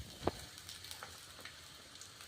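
Onions fry in two spoons of oil for a masala bath, giving a faint, steady low sizzle with one brief sharp tap near the start.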